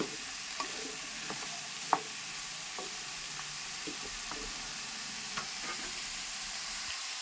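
Bottle gourd curry cooking in a pan, a soft steady sizzle with occasional scraping and tapping stirring sounds, quiet and without talk.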